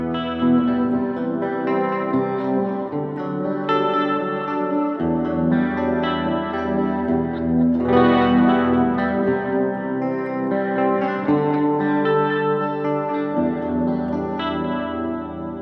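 A clean electric guitar, a Tele Jr, drenched in chorus and reverb plays sustained, shimmering chords that ring wide and spacious, with no voices.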